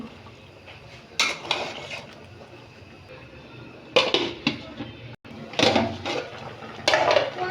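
Bottle gourd stirred in a metal cooking pot, with spoon scrapes and clinks in several loud bursts over a steady low background hum, ending with clattering as a lid is set on.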